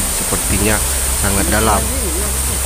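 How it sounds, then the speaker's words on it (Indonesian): Steady broadband rushing of the Dayang Rindu waterfall and its river fills the background throughout, with a person talking over it at close range. "ini adalah air terjun yang bernama air terjun Dayang Rindu"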